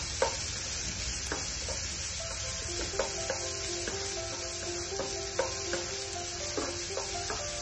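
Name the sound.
sautéing garlic with ginger and onions in a pan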